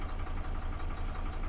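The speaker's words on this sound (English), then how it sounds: "Surely that's enough air. Why isn't the compressor stopping?" A Mercedes Vario 612D truck idles with a steady, close, low diesel rumble while its air brake compressor keeps running underneath, continuous and unbroken.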